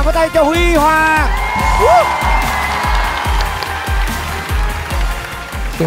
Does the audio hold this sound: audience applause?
yes